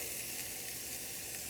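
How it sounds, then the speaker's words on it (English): Greek burger patty sizzling in a hot pan, a steady bright crackling hiss, close and continuous, with no talking. "I'm going to get the first burger in"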